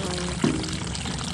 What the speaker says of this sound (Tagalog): maglalagay na ako ng